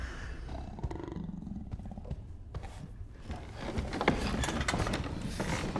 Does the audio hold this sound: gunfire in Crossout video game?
no